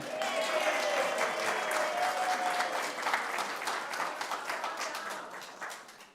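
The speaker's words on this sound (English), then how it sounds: "Yeah, applause, everyone." Sustained applause from a church congregation at a Unitarian Universalist Sunday service, dense clapping filling the room and slowly tapering off toward the end.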